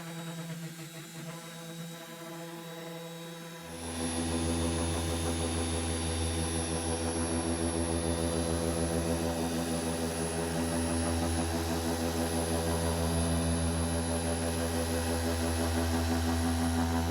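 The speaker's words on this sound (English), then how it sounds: "One drawback, one little negative with the polisher, that's the sound it makes." A small electric car polisher whirs to life after a brief pause, settling into a steady, high-pitched, jet-like motor whine that runs continuously, close and fairly loud.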